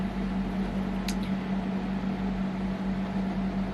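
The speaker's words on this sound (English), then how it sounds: "Just gonna wait for this construction to stop first." Construction work nearby, a constant mechanical drone with a steady humming tone and low rumble that holds evenly throughout, with a faint brief squeak partway through.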